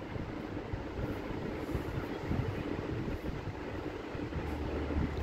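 Steady low rumble and hiss of the Drutajan Express running through the night in Bangladesh near the Jamuna Bridge, heard from inside the carriage as one continuous, even roar with faint rhythmic rattles and no voices.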